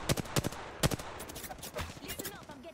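Gunfire in the video game Apex Legends, a few sharp bursts of shots close by, spaced irregularly with quieter shots and faint game sounds between them.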